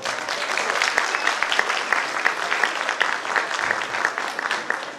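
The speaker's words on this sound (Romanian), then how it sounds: "Dați-le vă dat aplauze!" Audience applause at a village folk festival of traditions and customs, many hands clapping steadily at moderate volume, with some individual claps standing out and faint crowd voices underneath.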